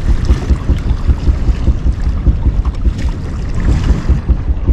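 Wind gusts buffet the microphone on a lake while fishing from a boat, a loud, continuous rumbling roar with fluttering surges and no voices heard.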